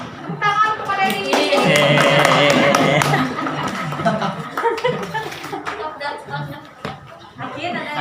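Applause from a group at a presentation and discussion gathering fills the first few seconds, mixed with laughter and lively chatter that carries on as the clapping fades.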